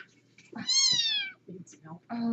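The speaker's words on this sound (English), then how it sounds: "they found this kitty out in the yard" Kitten found out in a yard meowing close up, one long high mew followed by shorter cries, with people talking softly around it.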